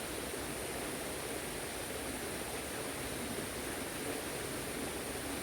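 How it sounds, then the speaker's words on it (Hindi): Faint, continuous rushing of flowing river water, an even hiss-like wash heard from a short distance with no talking. "उन्हें बरकरार कल करता हुआ नदी का पानी बड़ा मन को मोहता है।"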